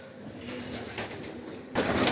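Pigeons in a dovecote, a flock just set flying, with soft wing flutters and faint cooing over a steady rustling background, then a sudden burst of louder flapping near the end.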